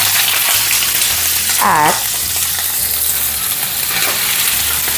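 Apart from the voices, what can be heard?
squid sautéing in a pan for palabok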